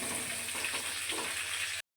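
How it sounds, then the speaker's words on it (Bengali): Cauliflower florets frying in hot oil after fish in the same pan, a steady close sizzle and crackle that runs evenly for nearly two seconds before cutting off abruptly. "ওই তেলে এবার ফুলকপি ভেজে নেব।"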